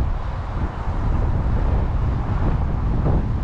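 Steady, loud wind roaring and buffeting outdoors on a cold, rainy day by a narrowboat, a constant rushing rumble with no voices.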